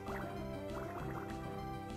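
Water Gun attack sound effect from the Pokemon Emerald video game, a short synthesized burbling, gurgling liquid tone with rippling bubbly pitch steps, steady and moderately quiet over two seconds.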